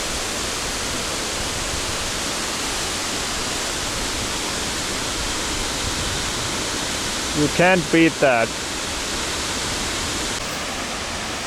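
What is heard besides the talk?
Dynjandi waterfall in Iceland's Westfjords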